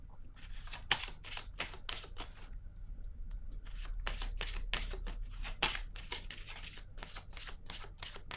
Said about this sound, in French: Je vais déposer une carte entre les deux pour voir ce qui se passe là.